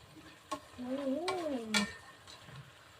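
Spoon stirring adobong sitaw with pork in a pan, soft scraping and a brief sizzle with a couple of light utensil taps, fairly quiet and close, with a squeaky tonal sweep in the middle.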